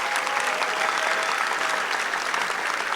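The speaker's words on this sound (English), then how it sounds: "I need to hear a very loud applause for the decoration team." A crowd at a Panchari Melam arangettam, a Kerala temple-drumming debut, gives loud, dense, sustained applause for the decoration team, an even roar of clapping with no talk on top.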